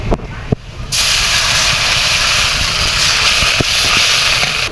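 A sudden loud, sustained hiss as water hits a hot pan, steaming continuously after a few brief clatters at the start.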